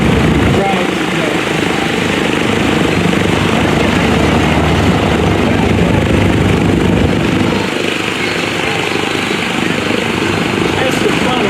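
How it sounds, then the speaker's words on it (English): A loud, steady propeller engine of an old warbird airplane roars continuously at close range at an airshow, dense and droning throughout, drowning out any other sound. "They can't hear you over the engine."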